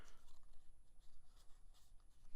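A marker colors paper flowers, making faint, soft scratchy strokes in short repeated bursts against a quiet background.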